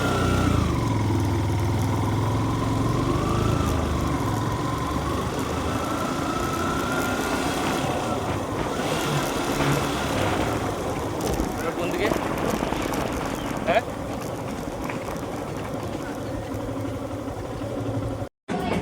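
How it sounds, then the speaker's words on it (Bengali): A motorcycle engine drones steadily and close by throughout, with wind rushing past as the bike rides along. "আমি বাইকে করে একটু ঘুরছিলাম এখন"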